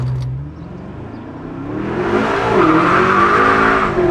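BMW F10 M5 with a V8 and a Valvetronic Designs exhaust, revved hard close by: a deep idle swells into a loud, sustained high-pitched wail that holds for several seconds.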